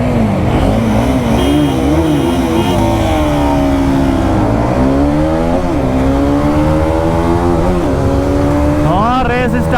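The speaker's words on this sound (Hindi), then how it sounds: "तो सबसे पहले मैं चलाऊँगा करिश्मा और भाई R15 चला रहा है" A Hero Karizma XMR 210 and a Yamaha R15M motorcycle race side by side, engines revving loud and close with rising and falling tones as they accelerate through the gears, with wind noise throughout.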